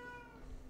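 A cat gives a single short meow, a clear tonal cry under a second long, close and fairly loud, with no talk.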